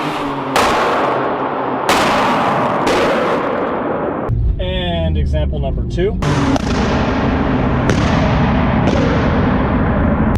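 Loud, sharp exhaust pops crack out one after another over the roaring engine of a tuned BMW E46 M3, with a voice speaking briefly in the middle.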